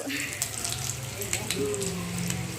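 Curry leaves tempering in hot oil for chutney, giving a soft, steady sizzle and crackle with a few small pops, heard at low level close by under a faint background voice.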